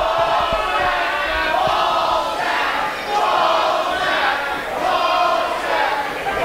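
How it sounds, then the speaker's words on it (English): A large wrestling event crowd chants loudly and continuously, a dense roar of many voices swelling in a steady rhythm throughout an indoor arena. "And you can hear the crowd chanting Bostic."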